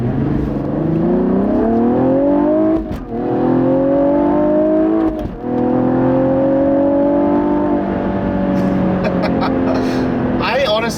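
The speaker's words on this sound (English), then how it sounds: "this car gets up to speed pretty damn quick" A 2016 Cadillac ATS-V with six-speed manual accelerating hard, engine pitch climbing steadily through a gear, briefly dipping at two quick shifts, loud and close from inside the cabin.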